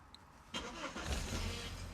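A BMW E30 engine is started with the key: a brief starter crank, then the engine catches and settles into a close, rumbling idle.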